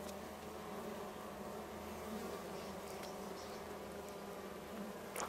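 Honeybees fill an opened hive during an inspection in Arizona with a dense, steady buzzing. The hum is close and continuous with a few individual bees whirring louder, and no talk.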